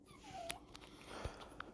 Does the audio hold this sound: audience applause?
no